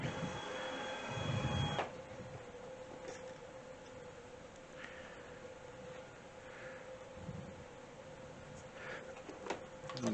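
A CNC cutting machine marks a workpiece with a steady mechanical whine and motor hum, a brief louder buzzing whir at the start, then soft intermittent movement sounds under a constant tone.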